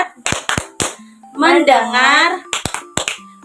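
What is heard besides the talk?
class clapping rhythm of tepuk fokus ice breaker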